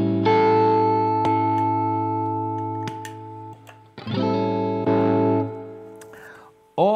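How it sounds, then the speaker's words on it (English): Electric guitar driven through a booster into the preamp of a vintage amp, ringing saturated chords that sustain and slowly decay, with sharp pick attacks and a fresh strum near four seconds, loud and close. "this one has more output and it saturates the clean, the vintage preamp in a special way"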